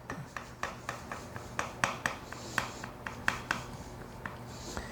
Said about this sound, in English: now I'm gonna cut a piece of it so we can see what it looks like